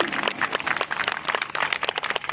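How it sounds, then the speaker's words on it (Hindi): Hearty audience applause at a parents and grandparents session during a Mahashivaratri puja gathering, a dense steady patter of many hands clapping together without pause, fairly close and moderately loud. "सोनाली दीदी और सीमा दीदी दोनों के लिए एक बार और जोरदार तालियां"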